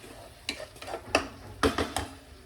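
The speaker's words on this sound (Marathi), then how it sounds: "हे जे मसाले आहेत ते पालकमध्ये मिक्स झालं पाहिजे एकदम चांगलं." Spices stirred into spinach in a pan for palak kala chana masala, four separate scraping strokes of a spoon against the pan, close and fairly quiet.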